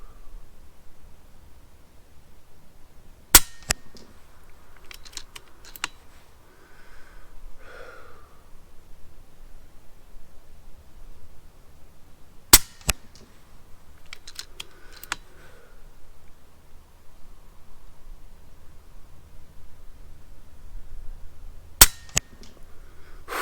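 Three sharp, faint cracks from an FX Impact M4 air rifle fired at several-second intervals while shooting a group, each followed by small clicks and rattles of handling in a quiet setting.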